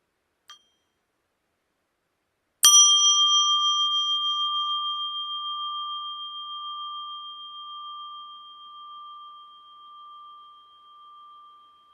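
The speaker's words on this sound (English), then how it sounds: "At least 3 times mindfully every time you hear the bell" After a tiny tap, a single mindfulness bell is struck and rings clearly, its pure tone sustaining and slowly fading with a gentle pulsing over many seconds.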